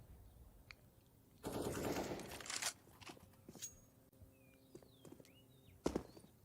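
Rapid gunfire bursts from Counter-Strike on the Inferno map during a G2 versus Liquid professional match, with a loud sustained volley followed by scattered footsteps, shell clinks and a final sharp shot.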